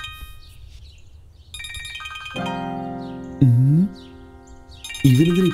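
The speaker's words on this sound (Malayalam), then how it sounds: "ഇവനെന്തിനാ ഇപ്പൊ ഫോൺ ചെയ്യുന്നേ?" Mobile phone ringtone playing in a scene from a Malayalam-dubbed horror film, an electronic melodic tune with sustained tones and rising swoops, close and clear over soft background music.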